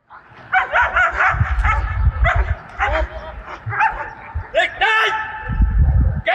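Prison service dogs at a national dog handler championship, barking and yipping repeatedly close by in quick irregular bursts, with some whimpering mixed in and low thumps underneath.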